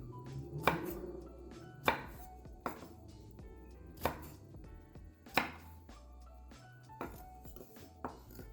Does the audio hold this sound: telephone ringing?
no